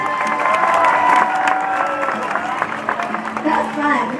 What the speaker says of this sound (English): Another big round of applause for